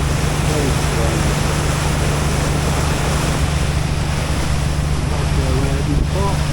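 Sea waves seen from above aboard a ferry, a dense continuous wash of water and wind noise with a steady low engine hum and brief voices in the background.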